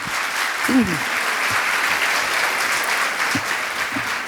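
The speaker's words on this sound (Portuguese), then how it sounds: "Vamos aplaudir" Steady applause from a congress audience fills the whole stretch, dense clapping with a couple of brief vocal sounds poking through.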